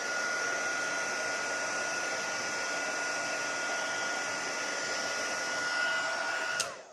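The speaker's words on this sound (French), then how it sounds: "On va faire sécher un petit coup au pistolet chauffant." A heat gun blows steadily for about seven seconds to dry ink on paper during a card-making project, a loud continuous whirring hiss that cuts off abruptly at the end.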